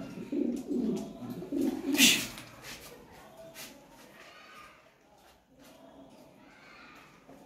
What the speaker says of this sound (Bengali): ডিমের উপর চলে আসছে ভাই কবুতরটা